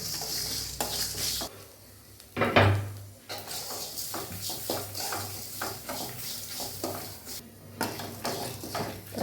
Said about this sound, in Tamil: அந்த தேங்காய் இதில் போட்டு நல்லா வறுத்து எடுத்துடலாம்.